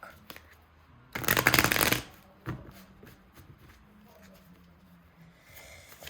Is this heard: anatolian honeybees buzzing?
no